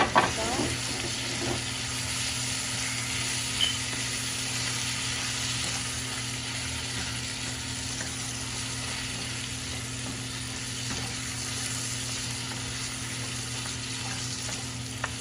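Vegetables and spaghetti being stirred together in a frying pan, with a continuous hissing sizzle and a few scraping stirs near the start, under a steady low hum.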